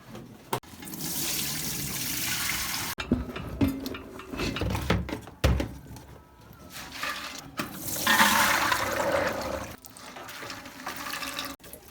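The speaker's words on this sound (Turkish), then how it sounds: "Dünden ıslattığımız aşurelik buğday, fasulye ve nohutu şimdi süzüp tenceremize koyacağız." Water pours and splashes from a tap as soaked wheat, beans and chickpeas for ashure are rinsed and drained, with intermittent gushes, pauses and light clinks of a pot nearby.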